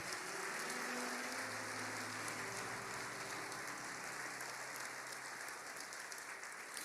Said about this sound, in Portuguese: Você pode dizer amém e aplaudir o nome de Jesus por isso?